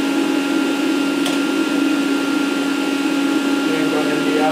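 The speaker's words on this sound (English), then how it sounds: "So let me demonstrate the machine running." Bridgeport Torq Cut 22 CNC milling machine running in a shop, a steady, loud mechanical whine and hum with a constant tone, holding unchanged throughout with a brief faint tick partway through.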